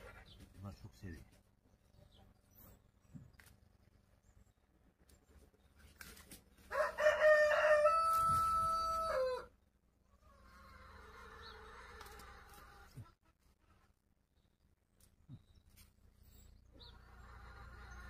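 Chickens and a rooster on a village farm, with a loud rooster crow standing out in the middle amid quieter clucking and bird calls, and some talk around it.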